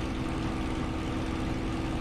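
Spitfire Mk IXc piston aircraft engine in a flight simulator, a steady, loud drone with a constant low rumble and little change in pitch throughout.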